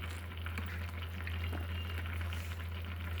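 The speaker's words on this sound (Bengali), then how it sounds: "চলো দুধটা হয়ে গেছে ফোটানো ভালো করে" Cow's milk bubbling in a pan on the stove while being cooked for pudding, a soft steady hiss and simmer over a low constant hum, with no voices.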